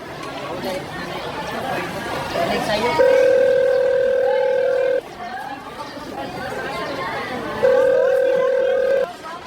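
A telephone placing a call gives two long steady ringback tones with a pause between them, heard under a chattering crowd and people talking in the background.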